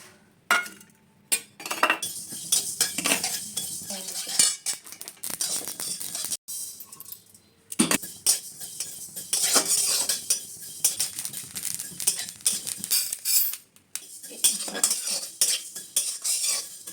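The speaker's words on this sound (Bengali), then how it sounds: "আমি সরিষাটা দিয়ে দেবো।" Mustard seeds frying in a pan for a new olive pickle, heard as steady crackle and sizzle under frequent metal spoon scrapes and clinks against the pan, with two short quiet gaps.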